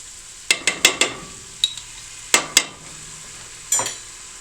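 Garlic going into a pot and being stirred, heard as a run of sharp, close clinks and scrapes of a utensil against the pot in irregular bursts over a soft sizzle, with no voices.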